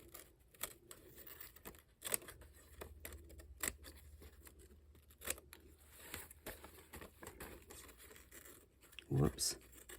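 Scissors trimming the edges of a paper card square, a faint series of quick snips and clicks scattered over several seconds, with some paper rustling near the end.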